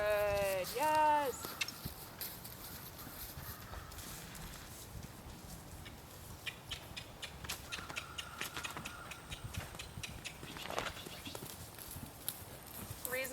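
Quiet, steady clip-clop of a young show horse's hooves as it moves forward on a ranch, with bleating sheep or goats early on and a person talking at times.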